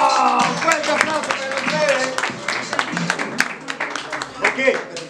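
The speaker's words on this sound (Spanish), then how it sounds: "¡Fuerte aplauso" Audience applause at a freestyle rap battle, scattered claps rising under a loud host's voice, with crowd noise in the background.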